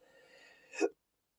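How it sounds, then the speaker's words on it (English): A single sharp hiccup near the end, loud and close, following a soft stretch of faint voiced breath, then silence. "I'm sorry, that was a hiccup."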